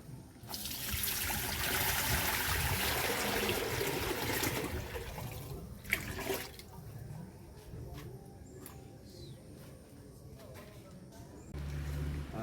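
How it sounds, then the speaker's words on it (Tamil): Pre-conditioned water pours into a cement fish tank, a steady splashing trickle that is loud at first, then thins to a quieter dribble with a few drips and clunks. "ஆல்ரெடி கண்டிஷன் பண்ணி வச்சுக்க வாட்டரை நம்ம உள்ளே ஊற்றிடுவோம்"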